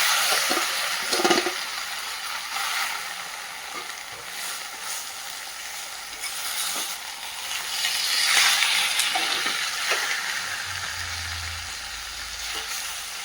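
Marinated chicken sizzles in a hot pan with a little water, a steady frying hiss that swells and fades with occasional stirring scrapes, no talking.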